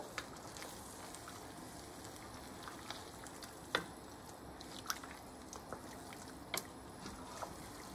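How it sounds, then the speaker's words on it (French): Faint, soft squelching of a spoon stirring tomato sauce in a pot, with a gentle simmering hiss and occasional small taps and drips. "Je remue le tout."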